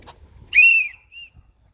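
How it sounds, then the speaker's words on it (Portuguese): A referee's whistle sounds at a basketball session, one loud, clear shrill blast lasting about half a second and then a faint short echo-like tail, with quiet surroundings. "Cadê seu apito?"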